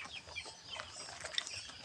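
Chickens in a farm coop raised for meat, soft scattered clucks and calls at a moderate distance over quiet background noise, with no talking.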